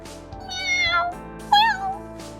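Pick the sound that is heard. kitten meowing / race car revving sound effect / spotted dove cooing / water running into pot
kitten meowing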